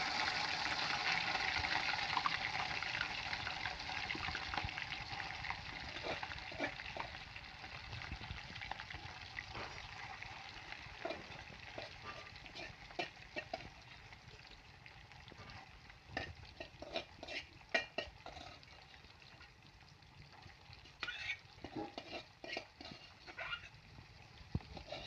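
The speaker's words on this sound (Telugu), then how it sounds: "ఇలా నెమ్మదిగా కలుపుకుంటూ ఇది బ్రౌన్ కలర్ వచ్చేదాకా దీన్ని మనం ఫ్రై చేసుకోవాలి చికెన్ని" Chicken pieces fry in oil while being slowly stirred, a quiet steady sizzle broken by irregular clicking spoon scrapes and light clatter, faint and close with no voices.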